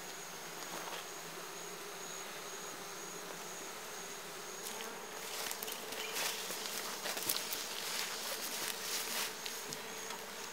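Honey bees swarm and buzz around an opened beehive, a dense, steady insect drone that swells louder and busier in the second half, with no voices.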